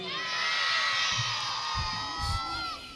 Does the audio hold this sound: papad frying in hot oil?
no